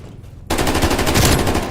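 Galil rifle fire in Call of Duty Warzone, starting abruptly after a near-quiet moment and continuing as a loud, dense rapid burst of gunshots.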